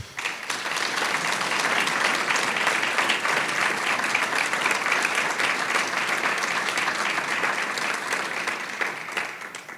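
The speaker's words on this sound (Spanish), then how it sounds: "Por favor, dediquemos también un aplauso al trabajo de Carrera." A seated audience at a book presentation gives sustained, even applause, a dense steady wash of many hands clapping at moderate loudness for nearly ten seconds before tapering slightly at the end.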